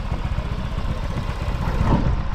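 A Yamaha Mio i 125 motorcycle upgraded to 160cc with a stock head, 59 block and silent killer pipe, idling close by with a loud, steady, throbbing rumble that swells slightly near the end.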